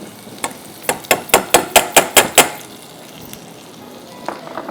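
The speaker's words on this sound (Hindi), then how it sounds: "2 टेबल स्पून बटर। ठीक है, इसमें हम डालेंगे क्रश्ड गार्लिक" Crushed garlic hits melted butter in a pan, giving a series of about eight sharp, evenly spaced crackling bursts over a soft sizzle, then a quieter simmer with a few faint pops.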